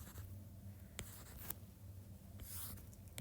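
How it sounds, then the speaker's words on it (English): Pen writing notes by hand on paper: a faint, soft scratching with a few sharper strokes, close and quiet, alone with no talk. "So I'm going to write that down."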